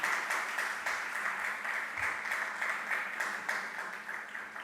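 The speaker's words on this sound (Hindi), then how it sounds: "आप लोग तालियों में कंजूसी नहीं करें" Religious-gathering audience at Muni Pramansagar's question-and-answer session claps in sustained, dense applause with a faintly rhythmic pulse, moderately loud and even throughout.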